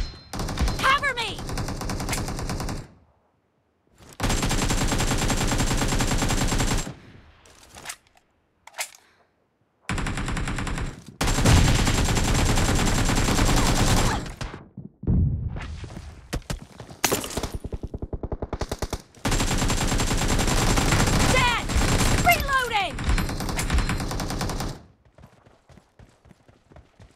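Bursts of automatic gunfire in the mobile battle-royale game Battlegrounds Mobile India, loud rapid volleys separated by short gaps, with game voice callouts in between.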